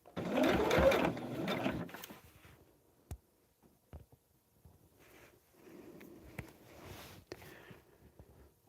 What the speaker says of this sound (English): I'm going to sew along that solid line.